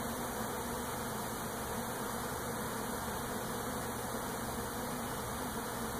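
A honeybee swarm arriving at a trap hive gives off a dense, continuous buzzing drone that holds steady, close and even, with no voices over it.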